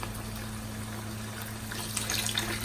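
Yakhni stock poured into a pot for mutton or beef yakhni pulao, a soft continuous pouring and splashing of liquid over a low hum, faint and brief.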